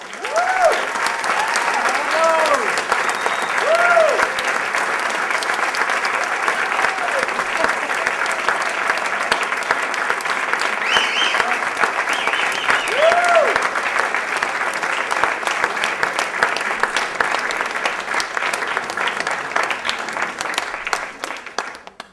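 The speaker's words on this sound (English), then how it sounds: "Applause for all of this evening's winners." A banquet crowd at the Amherst Area Chamber of Commerce awards night claps for the winners in long, dense, steady applause, with occasional whoops and cheers rising above the clapping.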